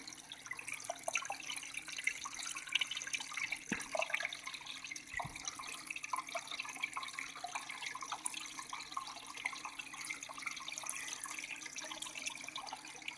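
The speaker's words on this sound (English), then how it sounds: "Spraying out water." A spray bar at a black sand cleanup site sprays out water in a steady hissing, splashing stream, fairly faint and continuous, with a couple of brief knocks partway through.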